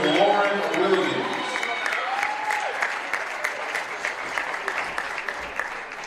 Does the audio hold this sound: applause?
yes